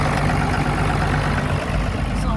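A farm tractor engine idles steadily in a field after working, a constant low rumble with even mid-range drone running unbroken throughout, fairly loud and close, no voices.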